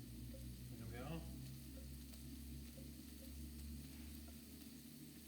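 Steady, faint sizzling of food frying in a pan, with a brief clink and light stirring sounds; no one speaks.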